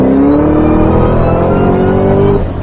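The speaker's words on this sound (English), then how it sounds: "that iconic whine of the Terminator" Ford Terminator Cobra engine with its Eaton supercharger, running steadily and loud up close, a sustained whine riding over the engine roar and rising slightly in pitch before it trails off near the end, with no talking.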